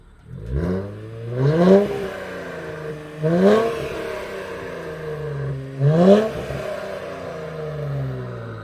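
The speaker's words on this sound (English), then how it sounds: "it has a custom exhaust, hence why it sounds so good" A twin-turbo V6 2023 Nissan Z sports car with a custom exhaust, about 400 horsepower, revs repeatedly, three rising bursts with a deep rasping exhaust note that falls back between each, heard up close.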